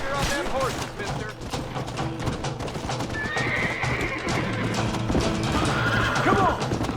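Horses whinny loudly over pounding galloping hooves in the video game Red Dead Redemption, with gunfire-like bursts and shouting voices mixed into a busy, continuous action scene.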